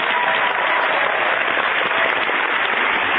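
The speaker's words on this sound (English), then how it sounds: "let's give him a Fire Your MD Now. Round of applause" Round of applause on a radio talk show, a dense, loud, continuous burst of many hands clapping with no voices over it, its top end cut off sharply as if played back through a limited broadcast channel.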